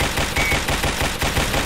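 Rapid automatic gunfire from a World War II shooter game in Roblox, a dense, steady stream of loud close shots repeating several times a second without any talk.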